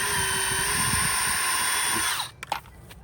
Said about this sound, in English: Pre-drill right where the stringer is.